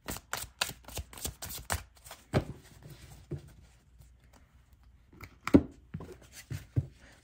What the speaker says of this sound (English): let me just shuffle this one time